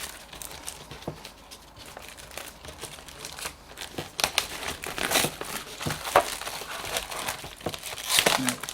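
Plastic and cardboard packaging from a new socket set crinkles, crumples and tears as it is pulled open by hand, a series of sharp rustling bursts growing busier and louder toward the end.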